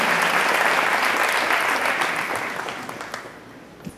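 A church congregation applauds in a loud, dense wash of clapping that holds steady and then gradually thins and fades away, with a few last claps at the end.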